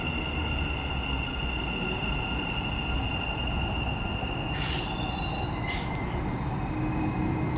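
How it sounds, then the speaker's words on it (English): A Dubai metro train pulling into a station, a steady loud rumble of rolling wheels with a high sustained tone and brief squeals near the end. "You can see the train is coming."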